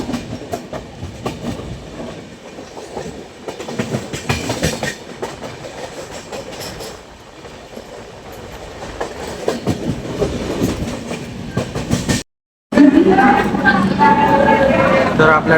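A Haridwar–Mumbai LTT AC superfast express departs Nashik Road, with a steady loud rumble and clickety-clack of wheels heard from on board, briefly cut and then resuming with louder rattling.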